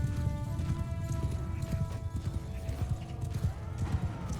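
Horses gallop in a battle charge in Mount & Blade II: Bannerlord, a dense, continuous drumming of hooves with a faint whinny, steady and fairly loud with no talk over it.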